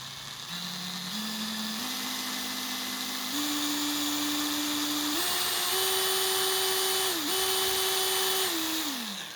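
Einhell TE-CD 18/50 Li BL brushless cordless drill whining as its motor is slowly eased up through rising speed steps, with a brief dip before holding high, close and steady with no talk.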